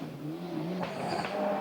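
A Ford Escort Cosworth rally car locking up and sliding up the road at an escape road during the 1994 Manx Rally, with a brief engine note and a short tyre squeal amid a rushing engine, heard close.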